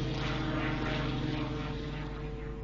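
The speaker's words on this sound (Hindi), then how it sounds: "रोल्स रॉयस इंजन वाला स्पिटफायर विमान भी था, जो दुनिया के बेहतरीन फाइटर प्लेन्स में से एक था" A Spitfire fighter plane with a Rolls-Royce engine drones past with a steady, throbbing propeller roar, heard alone and fairly loud.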